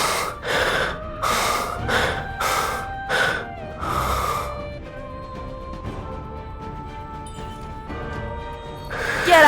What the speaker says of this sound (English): That is the loudest breathing I've ever heard.